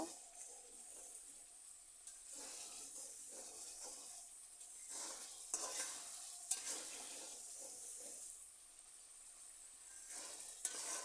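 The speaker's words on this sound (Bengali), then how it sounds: "আরও কিছুক্ষণ মশলা বেজে নেব" Spice paste for a tilapia fish curry sizzles and fries in a pan, with steady hissing broken by several louder stirring scrapes and bursts of spitting oil, close and fairly quiet.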